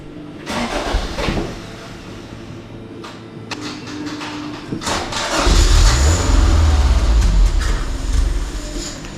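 A 1983 Honda Civic's 1.5L EM1 engine, freshly rebuilt, gives a few clicks and short bursts, then catches about halfway through and runs on loud and steady with a deep rumble.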